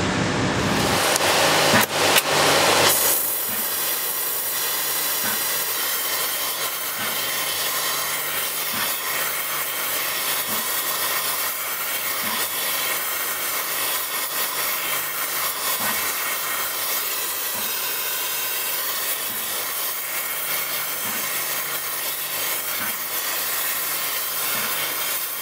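A Fusewelder torch preheats a ground engagement tool for hardfacing, producing a loud, steady roaring hiss that holds evenly for over twenty seconds after a brief start, with no talk.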